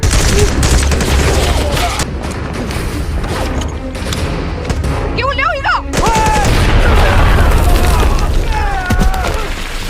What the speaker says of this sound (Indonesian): ternyata Tuan Gela mengirim seorang sniper wanita untuk bergabung dalam acara baku tembak tersebut